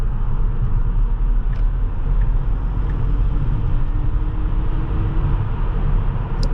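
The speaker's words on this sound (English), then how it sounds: "Now as I get onto the highway here, this one is a rear-wheel drive model, so you do feel it kind of understeer just a little bit, but let me punch it here." A rear-wheel-drive Tesla Model S 75 accelerates onto a highway, heard from inside the cabin as a steady loud low road rumble and wind roar with no clear motor whine.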